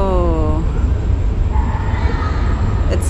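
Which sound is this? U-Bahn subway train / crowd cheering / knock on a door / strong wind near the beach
U-Bahn subway train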